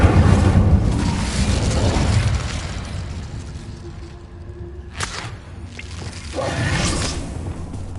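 Incendio fire spell cast in the video game Hogwarts Legacy, a loud whooshing burst of flame that roars, fades, then flares again with sharp pops and swishes.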